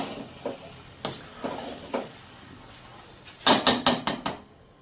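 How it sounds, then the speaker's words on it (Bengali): Muri ghonto, a puffed rice dish with ghee, stirred in a pan: scattered scraping clinks of a spoon against metal, a few soft strokes then a quick cluster of sharper scrapes near the end, close and moderately loud. "এবার ভালো করে মিশিয়ে নেব"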